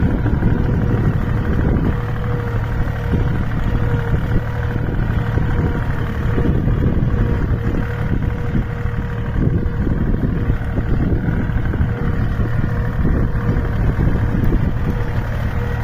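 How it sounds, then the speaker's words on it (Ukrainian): A small Iseki 23-horsepower tractor engine runs loud and close, a steady rumbling chug that holds without pause throughout. "Трактор Ісекі 23 кінських сили."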